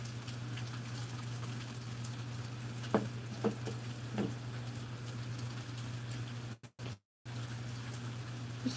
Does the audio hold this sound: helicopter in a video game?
no